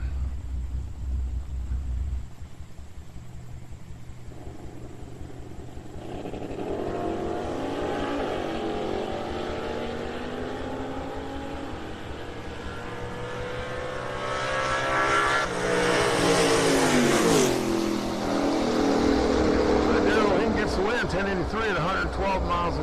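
Race cars at TriState Raceway, a Camaro and a pickup, roaring nearby and swelling louder as they pass, with an announcer talking over the engines.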